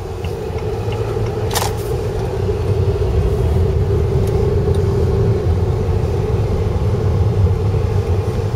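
A 2004 Saab 9-5 Aero sedan being driven around the block, heard from inside as a steady, fairly loud low engine and road rumble that continues without a break.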